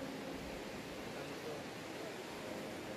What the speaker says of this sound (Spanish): Este es un río grande, mis amigos.